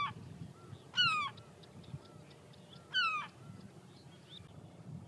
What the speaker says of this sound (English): All the while with a noisy pair of glaucous gulls in attendance